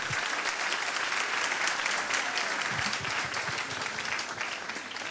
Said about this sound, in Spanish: yo creo que se merece un aplauso